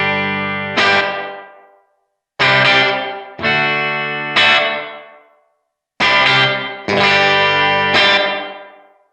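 An electric guitar plays through a Blackstar AMPED 1 amp with the reverb turned all the way up. Distorted chords strike in bursts, and each rings out into a long reverb tail before the next one hits. There is no talking.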